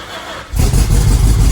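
A 383 big-block V8 in a 1974 Dodge W100 truck rumbles to life after a faint lead-in, settling into a loud, deep, throbbing run.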